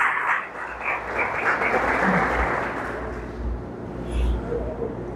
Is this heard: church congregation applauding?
yes